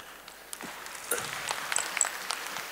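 Scattered applause from a conference audience in Dodoma after a speaker finishes, sparse individual claps building loosely over a quiet hall, fairly faint and distant.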